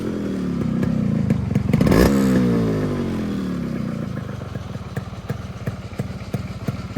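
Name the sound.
Yamaha RX100 motorcycle engine started and idling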